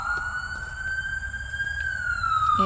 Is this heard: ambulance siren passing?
yes